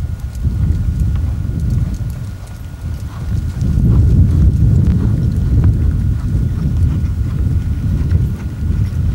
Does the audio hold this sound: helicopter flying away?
no